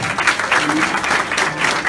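At an authors' conference book launch, a crowd gives Ejaz Bhalloo a big round of applause: steady, dense clapping from many hands at close range, with no talk over it.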